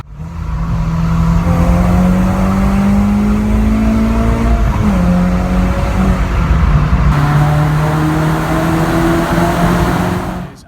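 A car drives into the Baltimore Tunnel on the way to Honda Day, its engine droning loud and steady with a falling pitch shift midway and constant road and tire rumble throughout.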